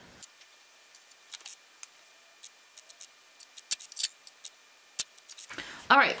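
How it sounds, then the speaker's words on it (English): Fabric scissors trimming the seam allowance on a dress bodice: sparse, close, crisp snips and clicks spaced irregularly over quiet, ending with a louder rustle of handled fabric. "I'm gonna go back and I'm gonna trim my seam allowance down to about half"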